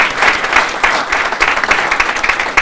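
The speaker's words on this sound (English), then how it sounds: "let's give a round of applause for all of them" Audience applause at a Metro South morning community gathering: a steady, loud wash of many hands clapping close by, with no talk over it.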